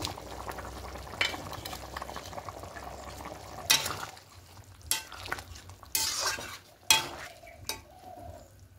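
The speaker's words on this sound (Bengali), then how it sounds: "ঝোলটা ফুটতে শুরু করে দিয়েছি" Cauliflower, potato and egg curry simmers in a pot with a steady bubbling hiss, broken by several sharp clatters from stirring or lid handling.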